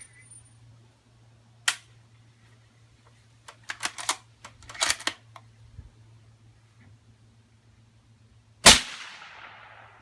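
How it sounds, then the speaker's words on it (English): Three suppressed .308 Winchester rifle shots outdoors, sharp muffled cracks spaced several seconds apart, with scattered smaller clicks and handling noises between them and a steady low hum beneath. "Okay, here we go. 3 rounds suppressed."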